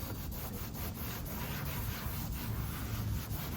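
A cloth wipes and scrubs around a lower fender light mount to clean it before 3M foam tape is applied. The rubbing is close, steady and rhythmic, with no voices.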